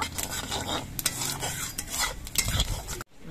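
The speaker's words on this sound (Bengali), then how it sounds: "এবার এই তেলের মধ্যে দিয়ে দিচ্ছি অল্প একটু গোটা জিরে। জিরেটা একটু ভেজে নেব।" Whole cumin seeds frying in hot oil in a pan, a close, busy sizzle with repeated scraping and clinking of a spatula stirring against the pan, ending abruptly.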